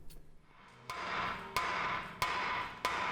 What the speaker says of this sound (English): Next, we can remove the rotor, which may need some persuasion with your favorite hammer.